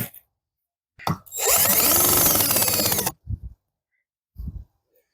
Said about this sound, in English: So, get those screws in there.